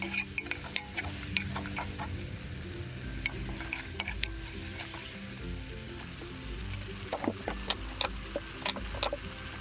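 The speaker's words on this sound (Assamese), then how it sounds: "সৰিয়হৰ পেষ্টটোৰ লগত মছলাখিনি যেতিয়ালৈকে ভালদৰে মিক্স হৈ নাযায় তেতিয়ালৈকে লৰাই থাকিব" A spoon stirs mustard paste with spices in a pan for Assamese rohu fish curry with mustard seeds, giving quiet, irregular scraping and clicking strokes over a faint sizzle.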